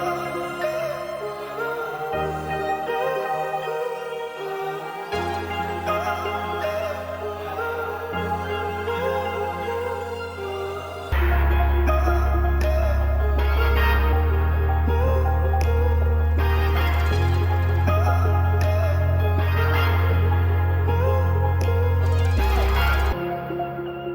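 A layered FL Studio beat loop built from a sampled track, with arpeggiated synths over melodic layers; deep heavy bass and drums kick in halfway and carry on loud to the end.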